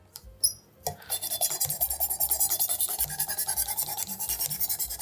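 A kitchen knife blade drawn back and forth across a whetstone during sharpening, a close, steady rasping scrape repeating in an even rhythm after a brief clatter at the start.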